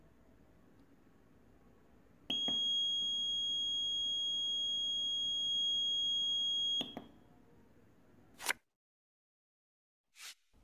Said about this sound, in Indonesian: Sekarang kita bisa mengaktifkan buzzer dengan satu klik